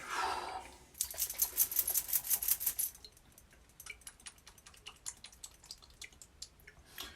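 Aftershave splash is shaken out of a bottle in a series of quick, faint sprinkles and drips, a burst of rapid splashes followed by softer scattered dribbles, close up and quiet.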